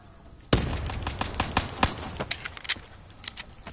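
Rapid pistol shots crack out in the Call of Duty Black Ops 3 zombies mode, a quick volley of a dozen or so fairly faint pops that thins out toward the end.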